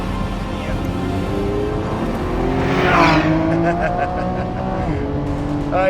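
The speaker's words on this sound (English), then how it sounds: "Nice 4-wheel drift on entry if you trail the brake in" Lamborghini Revuelto, the 1,001-horsepower Aventador successor, drifting on all four wheels through a corner entry, its engine note rising and falling steadily with a brief tire scrub mid-corner, heard close.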